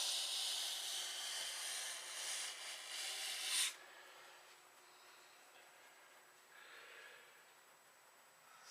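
Granite countertop being buffed to remove scratches near a sink, producing a steady hissing, rubbing abrasion for a few seconds that then drops off to a faint, quieter rub.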